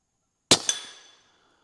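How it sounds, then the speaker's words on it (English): A rifle fires a single 200 grain 300 Blackout round: one sharp, loud crack followed a moment later by a second smaller report, then a quick fading ring. "I'm going to fire one round at the bottom. We'll see how much it swings with this 200 grain 300 Blackout."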